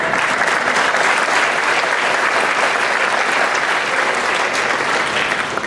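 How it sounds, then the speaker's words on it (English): Sustained audience applause for Senator John Grant at a school blue ribbon ceremony, a dense steady wash of many hands clapping at even loudness throughout, with no talk over it. "Can we give him a round of applause as well?"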